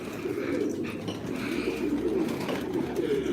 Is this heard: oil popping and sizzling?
no